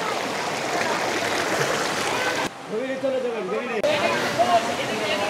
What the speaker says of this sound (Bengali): পাহাড়ের উপর থেকে নেমে আসা পানির ঝপঝপ শব্দ